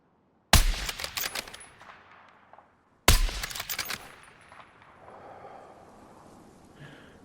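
Battlefield 6 gunfire, two loud rapid bursts of automatic shots a few seconds apart, each trailing off into a rumbling echo, with no talk over them.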